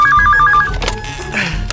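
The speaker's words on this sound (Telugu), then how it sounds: "ఫోన్ వస్తుందండి" A telephone rings loudly with a rapid repeating electronic trill of about five pulses, then stops, followed by a brief bump and scattered background noise.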